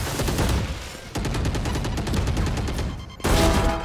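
Rapid automatic gunfire rattles loudly in a tactical shooter video game, bursts of rapid shots broken by a brief pause near the middle and another fierce volley at the end, with no talking.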